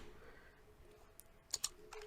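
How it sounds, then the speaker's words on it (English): Keys on a computer keyboard are tapped while a terminal command is typed, a faint run of soft clicks with a few sharper keystrokes near the end. "I will type the command sudo apt get install"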